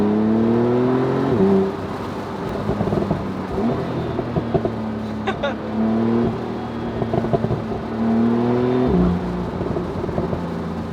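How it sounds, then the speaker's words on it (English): Porsche 911 Carrera Cabriolet of the 991.2 generation driving on the road, its engine rising and falling through revs with several downshift blips, steady and close without any talk. "Oh, those downshifts. It sounds good, really, it does."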